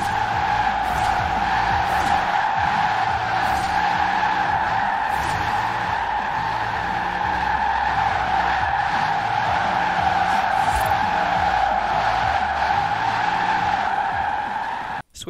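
Sustained tire squeal from a Jaguar I-Pace drifting in the racing game Forza Horizon 4, a loud steady screech over a low electric motor hum that cuts off abruptly at the end.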